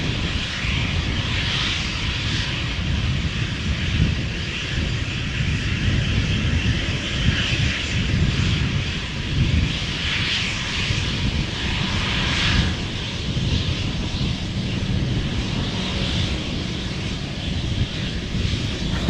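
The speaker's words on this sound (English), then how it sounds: "Embraer 190 to Trondheim," KLM Embraer 190 jet departing Amsterdam Schiphol Airport, a sustained loud engine roar with broadband rumble and a whining upper tone that swells and wavers, with wind noise.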